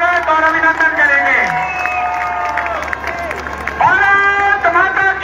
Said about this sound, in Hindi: उनकी बहुत बहुत तालियां बजा करके हम उनका स्वागत और अभिनंदन करेंगे